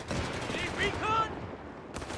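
Rifle and machine-gun fire crackles in Company of Heroes 3, a dense burst of battlefield shots under voices calling out, fading toward the end.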